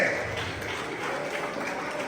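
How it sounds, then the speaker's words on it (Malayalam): A group claps steadily at a wedding home gathering, with a dense, even patter of hands that holds throughout while voices mix in. "എല്ലാവരും നല്ലൊരു കൈയടി."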